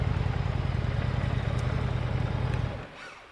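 An Indian Scout motorcycle engine held against its rev limiter at about 7,000 RPM gives a fast, stuttering buzz of rapid pulses, close and loud, before dropping away to a quieter idle near the end.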